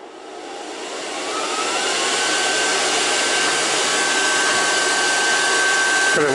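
An Air Venturi Nomad II compressor runs steadily with its cooling fan, a loud, continuous broadband whoosh with a faint steady whine that builds slightly at the start and then holds even, with no talking.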